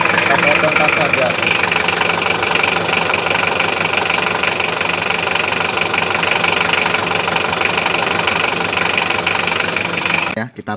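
A car engine idles close by with a steady mid-pitched rumble and faint knocking texture, running evenly throughout before a brief clatter right at the end.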